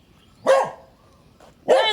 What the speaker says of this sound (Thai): เห่าเสียงดังมากเลย